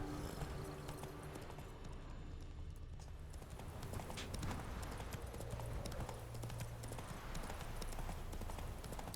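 In the game Witcher 3, the horse Roach gallops along in a continuous rhythmic clip-clop of hooves with the sounds of the surrounding game world behind it.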